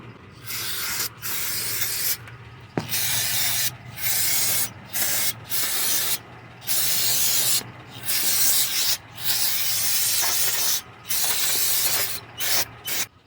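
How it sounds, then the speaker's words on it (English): Repeated bursts of hissing brake cleaner spray from an aerosol can onto the rear brakes of a Honda Odyssey, each lasting a second or two with short pauses between, close and loud. "right now I'm gonna be spraying here brake cleaner to clean the entire area"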